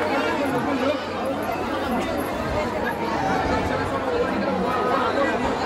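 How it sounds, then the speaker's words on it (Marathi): Steady, dense crowd chatter fills a busy temple in Tuljapur, many voices blending into a continuous close hubbub with no single voice standing out. "फ्रायडे असून तरी गर्दी आहे."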